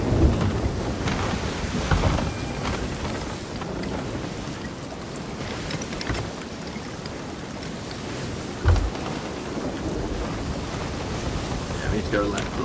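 A thunderstorm at sea in the video game Sea of Thieves: heavy rain and rolling thunder with occasional louder cracks, over sloshing waves around a ship, loud and continuous.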